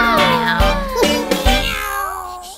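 Voices imitate kittens with a run of sung meows over a bright children's nursery-rhyme backing, the mewing calls gliding up and down in quick succession, loud and close.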